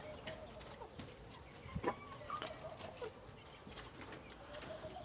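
Backyard hens, including a crossbreed green-egg layer, cluck softly in a coop, with faint scattered calls and a brief louder squawk in the middle over steady outdoor background noise.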